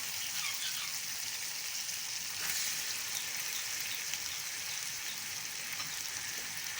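Chicken frying in a pan for bhindi gosht, with tomatoes going in, gives a steady, fairly quiet sizzle and crackle that runs unbroken throughout, with a brief stir or clatter in the middle.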